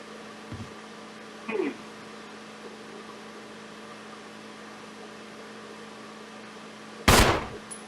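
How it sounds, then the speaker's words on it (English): Gunshots fired down a hallway in a video game: two quick, faint shots early on, then a single loud, sharp blast near the end over a steady low hum. "I shoot a couple of times"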